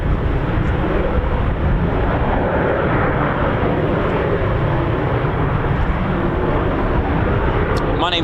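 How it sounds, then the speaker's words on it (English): Eurofighter Typhoon FGR4 jet engine running at RAF Coningsby, a loud, steady broadband roar that holds evenly throughout with no pauses, heard from outside at the airbase. "That's a nice little engine run there."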